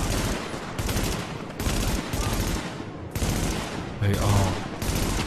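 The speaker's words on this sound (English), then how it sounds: "you don't like the MP5 when that gets going, do you?" An MP5 submachine gun fires in The Division in several loud, rapid bursts separated by short pauses, with a voice briefly talking among the shots.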